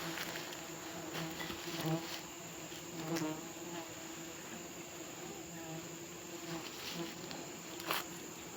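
Angry honey bees swarming during a sialang honey harvest, a dense continuous buzzing drone with steady tones and occasional louder swells as bees pass near.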